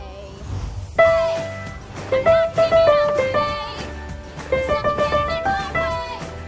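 Simple keyboard notes from beginner levels 1 to 3 played over the original track, a plain struck melody sitting on top of the backing music and clashing with it.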